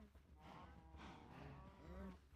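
Cows mooing in the Minecraft video game, a few overlapping low bovine calls, soft and at moderate distance.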